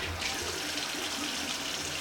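Tap water runs steadily into a bathroom sink during face rinsing, a continuous close splashing rush with no voices.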